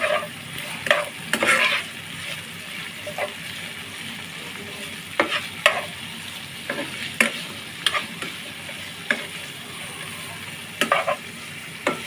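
Onion and garlic frying in a pan for a hotel-style eggplant bhorta, a steady close sizzle broken by repeated spatula scrapes and taps at irregular intervals, with no talking.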